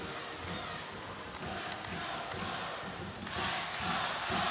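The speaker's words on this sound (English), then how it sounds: "Crowd here tonight has been super exuberant." A packed arena crowd at a women's college volleyball match between Hawai'i and Long Beach State roars and cheers continuously, swelling louder toward the end, with dense overlapping voices and no single speaker standing out.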